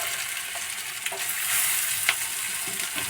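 Drumstick flowers dropped by hand into a hot wok, crackling and sizzling steadily up close, with a few soft clicks and taps of handling, no talk.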